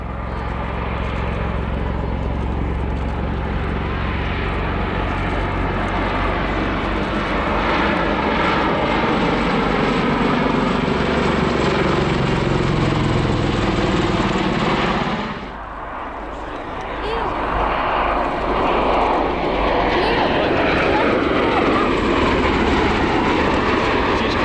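A V-22 Osprey tiltrotor aircraft at an airshow roars loudly as it transitions into aircraft mode and flies away, a steady heavy rotor and engine drone with a brief dip before it swells again.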